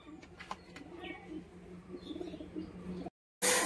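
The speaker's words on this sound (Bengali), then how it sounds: "এই পায়রা জোড়াটা দেখুন" A pair of Madras pigeons gives soft, low, throaty coos close by, repeated in a gentle rolling rhythm with faint chirps and rustles around them.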